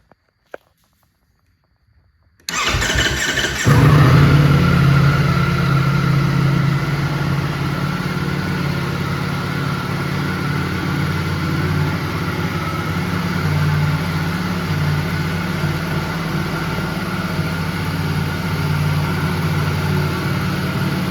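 A 2024 Ducati Panigale V4 motorcycle engine starts after a short silence, catching with a loud burst, then settles into a steady, close, rumbling idle that runs unbroken to the end.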